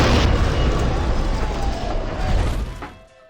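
A sudden bang in The Darkness 2 as a bomb goes off during a mafia dinner, with a loud, broad blast and rumble that holds steady for about three seconds before fading.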